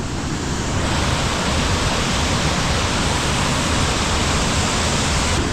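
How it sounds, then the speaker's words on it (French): Loud, constant roar of a mountain waterfall, a dense broadband rush of falling water filling the whole clip without pause, close to the listener. "la cascade elle est impressionnante de fou"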